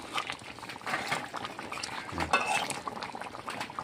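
A spoon stirring potato and meat curry in a cooking pot gives repeated scraping and clinking strokes with a soft sizzle of the thick spiced gravy, close and steady for a few seconds, with no one talking.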